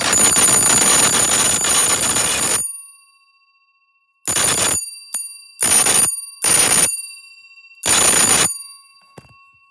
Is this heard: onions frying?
no